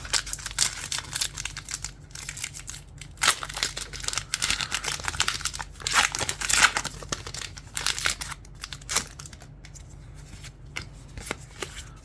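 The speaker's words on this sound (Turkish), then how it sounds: "Eevee ve Silvion'lu paketi açıyoruz." Crinkly foil rustles and tears as a Pokémon Prismatic Evolutions booster pack is opened, close crackling bursts and card shuffling coming in uneven clusters throughout.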